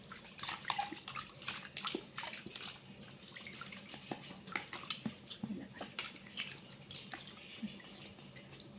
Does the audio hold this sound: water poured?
yes